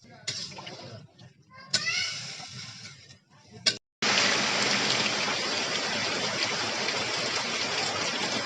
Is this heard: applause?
no